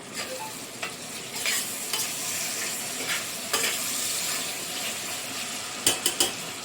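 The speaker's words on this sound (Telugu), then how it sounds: "నీట్గా కడిగి పెట్టుకున్న 2 కరివేపాకు రెమ్మలు వేసేసి ఒకసారి కలిపి" Curry leaves stirred into mutton curry frying in a pan give a steady close sizzle with soft scraping strokes, ending in a quick run of sharp metallic clatters.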